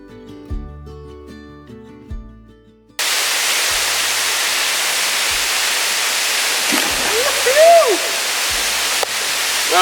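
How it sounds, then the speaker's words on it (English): Waterfall at Harry's Hole in the Kimberley roars as a steady, loud broadband rush after a quieter opening with music, with faint bird calls and a brief voice over the constant spray. "I've made it to the top of the main waterfall."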